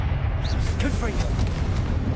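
A Confringo fire spell explodes in Hogwarts Legacy, a deep continuous rumbling blast with crackling bursts on top and a voice heard briefly.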